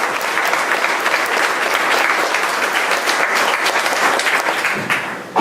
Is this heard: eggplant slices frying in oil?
no